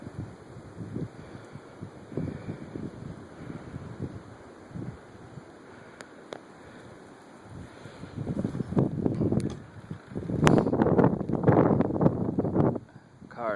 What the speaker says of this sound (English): the wind blowing pretty hard